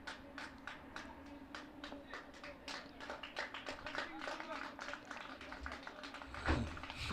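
A cricket crowd at a Nottinghamshire versus Derbyshire county match gives scattered, distant applause in many quick claps, under a commentator's steady talk.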